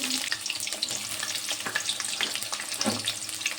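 Chopped onions dropped into about 100 ml of hot oil for ghugni, a steady sizzling frying sound with scattered crackles and pops, close and moderately loud, no voices.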